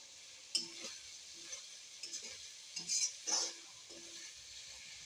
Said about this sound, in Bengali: এখন ধনিয়া পাতা দিয়া একটু সময় নাড়াচাড়া দিন